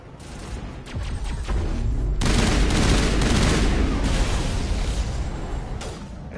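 Dense gunfire from a Mass Effect battle, with sustained rapid shots and booming artillery-like blasts that swell loud after a sparser opening and keep going steadily to the end.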